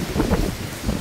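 Strong wind gusts during a heavy rainstorm rumble and swell in rough surges, close and blustery, with the patter of rain mixed in and no talking.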